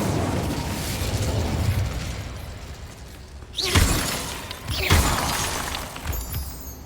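The Incendio fire spell is cast in Hogwarts Legacy, producing two sharp whooshing fiery bursts a little over a second apart above a steady ambient game background.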